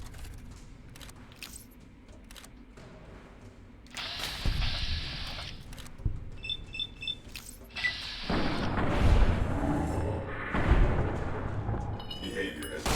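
A powerful gun fires in Fallout New Vegas. Heavy booming blasts arrive in bursts over a low background, with sharp electronic chirps and loud, dense stretches of firing, and talk runs alongside.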